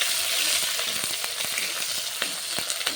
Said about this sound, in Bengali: পেঁয়াজ কুচিটা ভালো করে আমি ভেজে নিচ্ছি